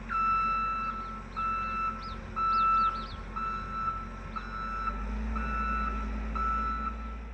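A truck's reversing alarm beeps in a regular, evenly spaced rhythm over a low engine rumble beside a New Mexico road work site, with fainter chirping sounds above.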